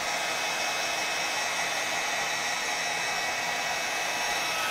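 A heat tool blows steadily and loudly throughout, a constant broadband whoosh like a hair dryer, melting embossing powder for a craft project.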